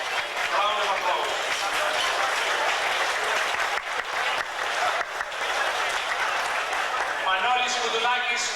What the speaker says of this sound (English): he deserves a good round of applause